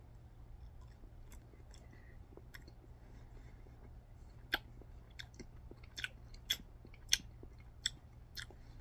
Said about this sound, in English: I'm not going to sit here and waste 5 minutes chewing on it